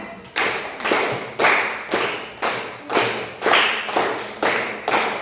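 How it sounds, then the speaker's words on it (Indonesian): A classroom of students claps in unison about ten times for a classmate, each loud, even clap ringing out in a steady rhythm with no talking. "Tepuk 10 kali untuk Princess"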